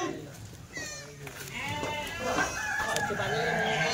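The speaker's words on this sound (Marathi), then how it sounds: "आता ही शेळी बघा" Goats bleating at a crowded rural livestock market, several wavering bleats overlapping near and far amid a background murmur of people talking and distant fowl.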